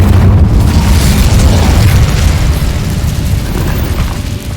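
An Incendio fire spell in the Hogwarts Legacy video game bursts into a loud, sustained, roaring explosion that slowly fades over several seconds, heard on its own without talk.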